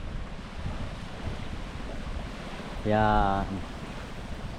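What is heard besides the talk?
waves on Burawan beach shore, Quezon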